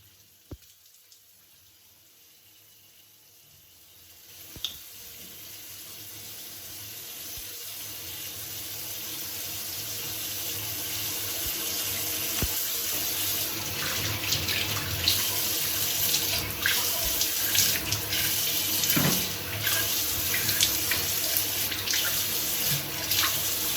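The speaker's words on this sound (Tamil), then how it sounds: "இது வச்சு நான் ஃபேஸ் வாஷ் பண்ண போகிறேன்." Tap water runs into a sink during face washing, starting faint and quiet then swelling into a steady, continuous splashing stream, nearby with no voices.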